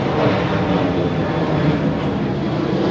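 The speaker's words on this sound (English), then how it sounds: "the planes pass very close by." A low-flying airplane passes overhead above Flushing, New York, its engine a loud, steady, broadband roar that fills the whole clip without letting up.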